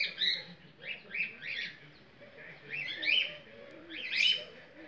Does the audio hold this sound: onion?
no